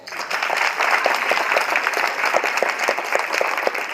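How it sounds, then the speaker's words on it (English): Dense, sustained applause from an audience at a high school academic achievement ceremony, loud and continuous with no speech over it. "you all give them a big hand of applause"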